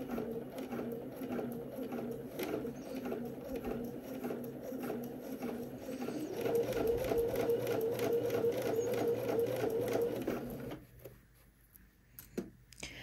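A sewing machine stitches down belt loops on a pair of pants, a close, steady rapid whirring patter that speeds up midway, then stops, leaving a quiet room with a couple of faint clicks.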